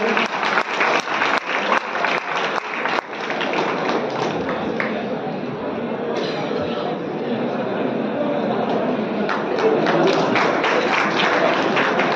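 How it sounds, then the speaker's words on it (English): Applause from the audience at a college club inauguration and info session, starting as distinct sharp claps and settling into a continuous wash of clapping and crowd murmur with voices mixed in. "Please give them a big round of applause, everybody"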